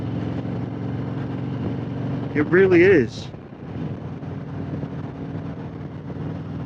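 A 2020 Harley-Davidson Road Glide Special idles with a low, steady rumble under wind buffeting, while someone briefly speaks over it partway through.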